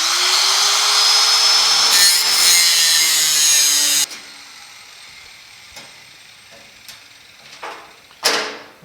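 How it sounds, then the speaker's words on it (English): A big saw cuts through a rusted steel inner door panel on a 1950 Chevy truck, a loud continuous grinding rasp for about four seconds that cuts off abruptly, followed by a few scattered metallic clanks and scrapes. "just make a quick cut right here with the big saw"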